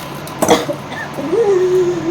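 A single sharp cough bursts out, followed by a drawn-out vocal tone, close and fairly loud against a quiet background.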